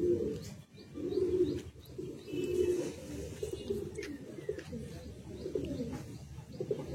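Kalsira Madrasi high-flying pigeons coo in soft, repeated low throaty rolls, close and continuous, with faint chirps from other birds in the background.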